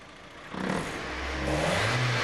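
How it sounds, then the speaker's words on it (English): A Volkswagen engine revs up from idle, its low mechanical drone rising and holding at higher speed over a couple of seconds, fairly close with some whirring clatter and no talk. "By revving the engine and noting the injector opening time"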